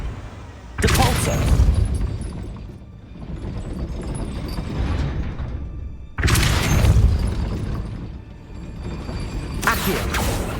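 A spell is cast twice in the Hogwarts Legacy video game, each cast a loud whooshing burst with a booming impact that fades away, with a voice speaking between casts.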